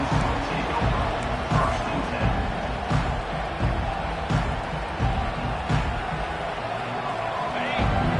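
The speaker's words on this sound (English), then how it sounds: "this crowd is fired up. Listen to this noise here" A large stadium crowd at a Texas A&M game roaring continuously, a dense wall of cheering and shouting that stays loud throughout.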